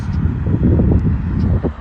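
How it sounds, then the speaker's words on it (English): A steady low rumble of an engine, probably an airplane passing overhead outdoors at night, heard at moderate distance with some wind noise on the microphone. "I hear an engine sound right now."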